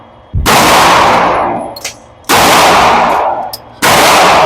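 Three loud, close pistol shots from a Fusion Firearm XP Pro Ltd Edition in bronze PVD finish, each a sharp blast with a long ringing decay and faint metallic clinks between, spaced about two seconds apart, no talk.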